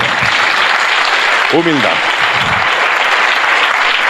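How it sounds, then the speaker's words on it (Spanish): A church congregation applauds during a Spanish-language sermon, with loud, dense, steady clapping throughout and a voice briefly speaking over it. "Dele un aplauso a Jesús, por favor."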